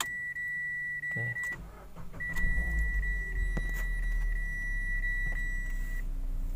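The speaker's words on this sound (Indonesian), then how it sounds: "kita nyalain mesin" A Mitsubishi Xpander with a faulty air conditioner starts up after a few dashboard chimes, and its engine settles into a low, steady idle rumble; a brief spoken word is heard.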